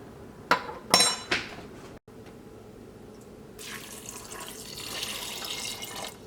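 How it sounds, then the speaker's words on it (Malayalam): A glass of water is poured into a pot of mutton stew, giving a steady, close splash and wash of water that builds in the second half, after a few sharp metallic clinks of utensils at the start. "ഇതിലേക്ക് 1 ഗ്ലാസ് വെള്ളം ചേർക്കുക."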